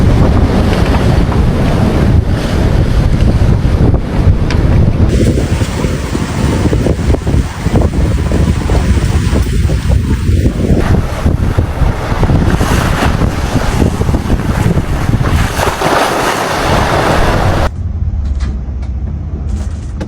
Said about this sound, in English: These waves are absolutely massive.